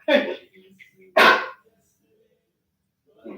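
A dog gives two loud, sharp barks close by, about a second apart, followed by quiet and then a faint sound at the end.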